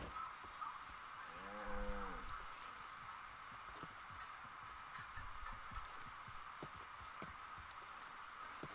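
Cattle lowing in the video game Far Cry 5, a single drawn-out moo that rises and falls, heard faintly over a steady game ambience with light clattering.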